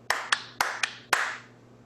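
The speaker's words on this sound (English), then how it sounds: "We're going to clap loudly." Children clapping loudly in a music lesson, five sharp ragged claps at an uneven pace, each ringing briefly in the room before fading to quiet.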